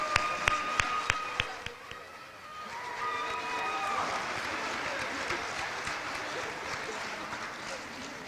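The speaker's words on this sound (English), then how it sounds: "Please join me in once again applauding all of our new members of the Minnesota Honor Society." An audience at a high school honor society induction ceremony claps for the new members. After a couple of seconds of scattered tones and taps, steady, moderately faint applause fills the rest of the clip.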